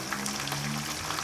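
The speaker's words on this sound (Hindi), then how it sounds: "अभी मैं इसको फ्राई कर लूँगा।" Cooked sarson ka saag, mustard greens, frying in a pan with a steady, dense sizzle and crackle that stays close and even throughout, with a faint low hum beneath and no voices.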